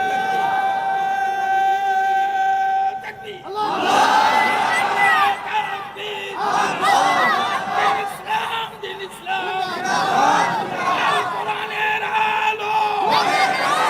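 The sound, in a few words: crowd shouting takbir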